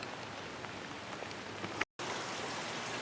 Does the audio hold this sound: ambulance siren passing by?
no